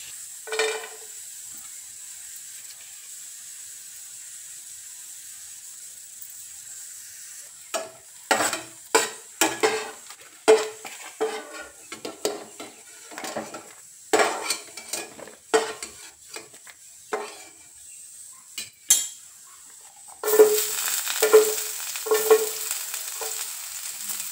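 Onion masala paste frying in a pan: a faint hiss at first, then repeated metal spoon scrapes and clinks against the pan, ending with a louder sizzle and rhythmic knocks, no talking.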